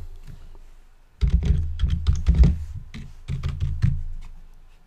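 Fast, close computer keyboard typing as a file name is entered, a dense run of crisp key clicks in two bursts separated by a brief pause, with no talking.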